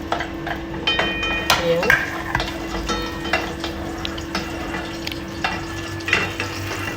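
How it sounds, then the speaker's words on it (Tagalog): Garlic frying in hot cooking oil for liver adobo, a steady close sizzle with occasional stirring and clinks of a utensil against the pan, with a person speaking briefly over it. "Igisa ko na yung bawang"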